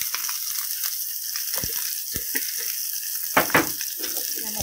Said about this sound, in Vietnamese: Xào hỗn hợp lên